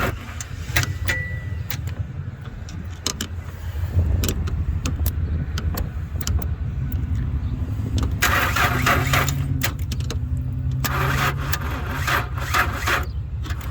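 A 1996 Ford Explorer with a blown engine, sitting unused for five years, cranks over and over in a steady droning rhythm without catching, close and loud, with a brief voice partway through.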